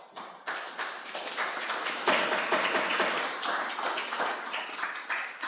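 Steady clapping from an audience at a committee meeting, dense and fairly close, with sharp individual claps standing out in a continuous patter and no talking.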